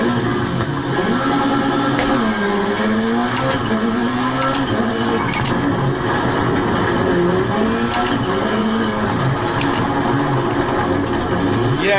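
Race car engine in a racing simulator video game, using a sequential shifter: a loud, continuous engine whine that rises and falls through gear shifts, with faint tire noise and no talking.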